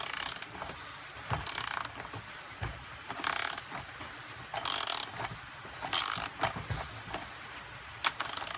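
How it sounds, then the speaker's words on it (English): Repeated ratchet clicks tightening the nut that holds a brush-cutter blade on a string trimmer, coming in several quick bursts with short pauses between them, close and clear. "I'm going to grab a ratchet right quick"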